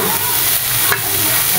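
Loud, steady sizzle of vegetables being stir-fried for a Filipino ginisang gulay, with faint stirring scrapes over the frying hiss.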